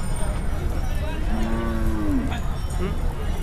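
A bull at a Maharashtra cattle market lets out one drawn-out moo over a noisy crowd, with people talking around it.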